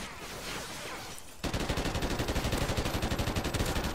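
Rapid automatic gunfire in the multiplayer video game Call of Duty Ghosts, a fast, even burst of loud shots that abruptly follows a quieter stretch of softer, scattered firing.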